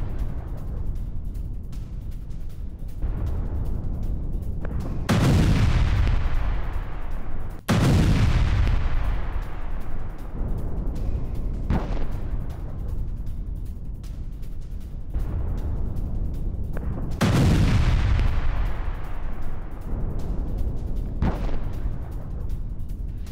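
Israeli air strikes hit a Hezbollah base in Tyre, Lebanon, with a series of heavy, booming explosions a few seconds apart, each loud blast trailing into a long rumbling decay, with no voices.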